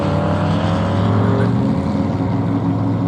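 Hot rod launching hard at Barona Drag Strip with all four wheels lifting, a loud, continuous engine roar close by that holds steady for the whole stretch, with no break in the noise.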